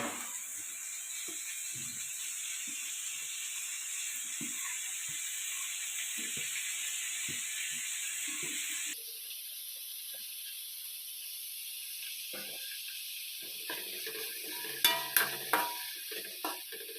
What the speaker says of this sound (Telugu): ఇప్పుడు నేను టమాటా ముక్కలు వేస్తున్నాను.